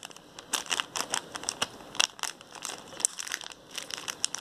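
Small plastic packets holding Chinese warming plasters crinkle and crackle up close, a steady run of sharp rustling handled at arm's length, with no speech.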